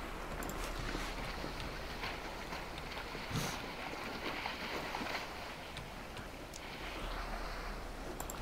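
A sailboat in the Sailwind game glides along as its sail is hauled in, giving a steady, continuous wash of wind and water rushing past the hull with a brief gust surge midway and no talking.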